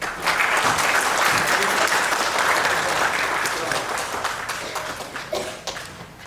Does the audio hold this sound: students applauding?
yes